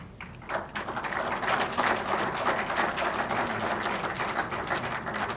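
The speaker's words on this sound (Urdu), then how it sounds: "تالیوں کا جوش کم نہیں ہونا چاہیے" An audience at a ceremony in Islamabad launching a healthcare program claps steadily, with dense, sustained applause building quickly and holding at an even level throughout, many hands heard together at moderate distance.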